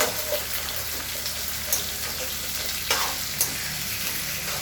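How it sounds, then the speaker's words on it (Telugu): Onions frying in a pan and stirred now and then, a steady hiss of sizzling oil broken by a few sharp scraping strokes of the spoon, close and fairly loud with no talking. "మీరు ఎంత సేపు వేయించుతారో టేస్ట్ అంత బాగా వస్తుంది"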